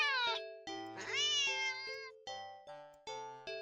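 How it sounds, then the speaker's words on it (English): Cat meowing in a horror game set indoors near a hall, a series of sharp tonal calls, one drawn out and rising, others clipped and abrupt, loud and close with nothing else heard. "the cat meows sharply at you and dashes off around the corner into the hall"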